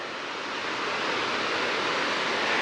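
A small white-water creek cascade tumbles beside a hiking trail on the Bear Hair Gap Trail, a dense, steady rushing roar that holds evenly throughout, close and unbroken, with no voices.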